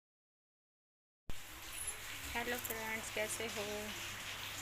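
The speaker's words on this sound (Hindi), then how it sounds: "बिल्कुल लगातार बारिश है," Steady heavy rain falls continuously on a village home after days of downpour, a soft hiss under a voice as she greets viewers, beginning after a second of silence.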